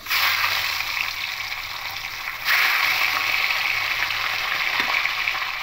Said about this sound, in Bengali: এবার মাছের মাথাগুলো এপিট এপিট করে লাল করে ভেজে নেব।